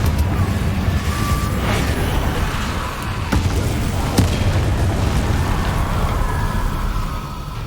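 Explosions from the Confringo fire-blast spell in Hogwarts Legacy boom through a loud, dense battle mix, with a few sharp bursts cutting through the constant rumble.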